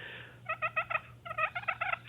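Push-button turkey call with volume control set low, aimed behind the caller, giving soft rolling hen purrs in two short bursts of several rapid trilled notes each, close and clear, with no talking.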